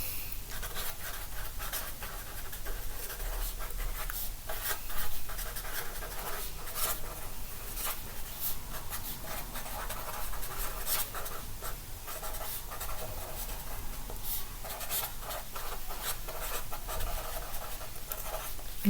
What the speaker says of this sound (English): So I'm going to write mine now.